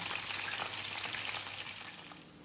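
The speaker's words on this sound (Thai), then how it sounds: "ทีนี้พี่ก็จะไปทอดปลาต่อ" Fish fries in a pan with oil, giving a steady close sizzle and crackle that fades slightly toward the end, with no talking.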